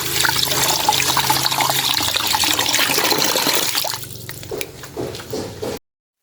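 Freshly picked butterfly pea flowers being rinsed in water make continuous splashing and trickling that fades into softer drips and light sloshing before cutting off abruptly.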